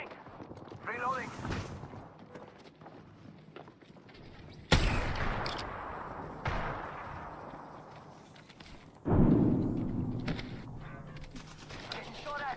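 Bursts of gunfire from a shooting video game crackle in several rapid volleys with sharp onsets, while a voice speaks between and over the shots.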